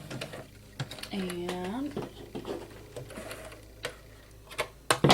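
A sewing machine runs briefly in reverse on canvas, with short bursts of ticking stitches amid clicks, while a person talks close by.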